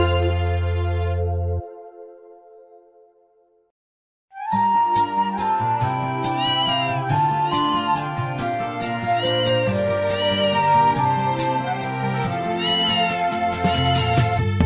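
A cat's meow sounds over a busy, jingly musical backing in a Telugu children's nursery rhyme, with repeated meows rising above the tune after a short pause.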